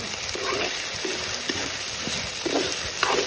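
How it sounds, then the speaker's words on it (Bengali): Duck meat fries in a pan with a steady, loud sizzle, and intermittent stirring scrapes sound over it. "ধুনীয়াকৈ এয়া মাংস ভাজি আছোঁ"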